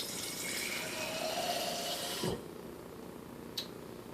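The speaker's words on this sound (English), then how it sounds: "So first I'm going to put water in." Water pours into a baby bottle being prepared for a doll, a steady splashing stream with a rising pitch as the bottle fills, then stops abruptly, followed by a small clink.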